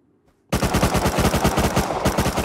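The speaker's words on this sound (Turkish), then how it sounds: "Adam bana 30 mermi sıktı." Rapid automatic fire from an MP5 submachine gun in the game Rust, a loud sustained burst of closely spaced shots that starts abruptly after a half-second of near silence and continues steadily to the end.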